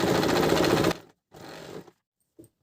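A sewing machine stitches woolen salwar fabric in a loud close burst, then a shorter softer run as the seam is backstitched, followed by a faint click.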